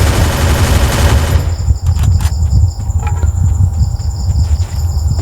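Gunfire in the battle-royale game Free Fire during a solo-versus-squad sniper match, a loud, dense burst of shots over a constant low rumble, with scattered sharp cracks following.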